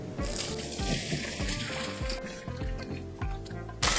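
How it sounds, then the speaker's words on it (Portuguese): Shrimp broth, boiled for an hour, is poured through a strainer for a creamy shrimp risotto, a steady close splashing pour with soft rhythmic thuds underneath and a brief louder gush at the end, no voices. "O caldo já ferveu por uma hora, agora eu vou escorrer."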